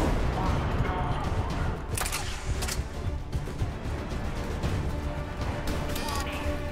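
Heavy gunfire in the sci-fi shooter Mass Effect 3, with repeated sharp cracks of a Widow sniper rifle over a dense low rumble of battle, a player talking beneath the shots.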